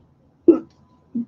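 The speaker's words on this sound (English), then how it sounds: "sorry, I've got the hiccups" Two short, sharp hiccups from a person, close and distinct, separated by brief silence.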